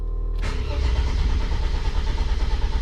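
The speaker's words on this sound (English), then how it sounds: "I've never had it crank that much and not start." A Mercedes engine cranks but does not start: a near, loud, continuous starter churn begins abruptly after a short quiet moment and keeps grinding without catching.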